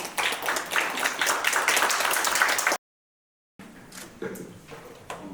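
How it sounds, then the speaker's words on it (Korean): Conference audience at a marine leisure forum applauds to welcome a presenter: a brisk burst of clapping, then a short silent gap, then quieter, thinner clapping that tapers off. "큰 박수로 모시겠습니다."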